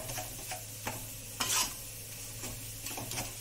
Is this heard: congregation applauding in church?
no